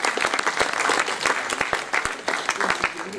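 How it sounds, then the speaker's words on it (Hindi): Audience applause for the president at an event of a national association on assistive technologies for persons with visual disabilities, a dense, continuous burst of many hands clapping close by with faint voices underneath. "एक बार हमारे प्रेसिडेंट साहब के लिए भी जोरदार तालियां बजा दीजिए"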